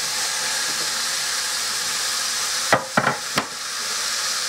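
Mushrooms sizzle in a pan with hamburger meat, a steady close frying hiss broken near the end by a few sharp clacks of a utensil against the pan.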